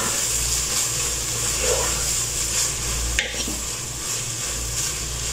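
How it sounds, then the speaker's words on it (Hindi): Aloo qeema being stirred in a pan, with a steady frying sizzle and hiss throughout and a brief utensil scrape partway through, no talking. "ये भी डालने के बाद इसे हिला के"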